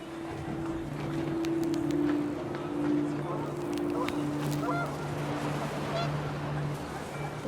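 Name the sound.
panicked geese honking in What Remains of Edith Finch video game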